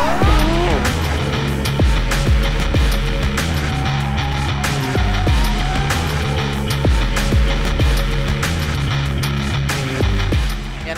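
An Alfa Romeo 4C driven hard on the Balocco test track, its engine note loud and continuous with repeated rising revs and gear changes, tyres squealing through the corners.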